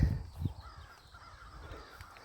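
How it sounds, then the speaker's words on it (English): Birds sing a few times in the distance in grassland, faint against a low outdoor rumble, with no one talking. "there's birds singing"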